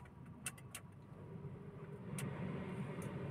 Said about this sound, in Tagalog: So off natin yung engine. Start natin ulit.